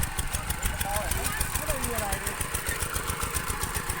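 A walking tractor engine runs in a rapid, loud, steady chugging beat close by, with people talking and shouting over it.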